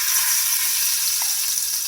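Half a cup of ghee heats in a kadai on a gas stove, giving a steady, close, bright sizzling hiss with small crackles. No voices are heard.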